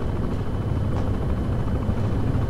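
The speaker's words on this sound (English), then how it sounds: "this is the most awkward helicopter ride in the fucking world" Helicopter in Resident Evil 6 during a ride: a steady, loud rotor drone with a dense low-frequency rumble, heard close and continuous with no talk over it.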